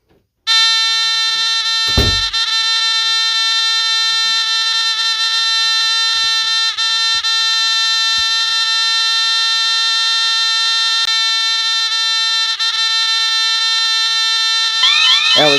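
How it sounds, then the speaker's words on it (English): A Bosch Radionics 4012/8012 alarm panel goes into full alarm after its entry delay trips, a loud continuous electronic siren tone with stacked harmonics that runs steadily for about fifteen seconds, with a short thump near the start. "it'll be about 10 seconds, and it'll be into alarm."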